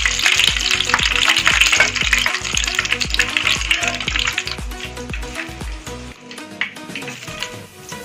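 Baby potatoes for a chilli dish frying in hot oil, with a loud continuous sizzle and repeated stirring scrapes and knocks in the pan, which drop away near the end.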